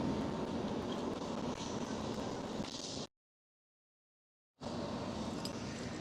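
British Airways BA CityFlyer plane at Schiphol airport, a steady broadband engine roar heard at a moderate distance, cut by a silent gap of about a second and a half before the rumble resumes.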